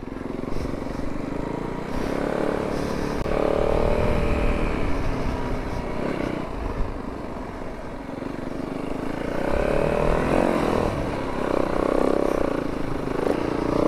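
A snow bike rides through snow off-trail among rocks, its motorcycle-type engine droning and rising in pitch with throttle swells, accompanied by steady scraping and clatter.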